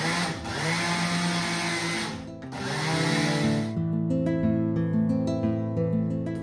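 A single-serve blender pulses twice, each burst a loud steady whirr of roughly two seconds with a short dip between them, blending a seaweed and sesame cookie dough mixture, followed by a whining, slowing motor tail.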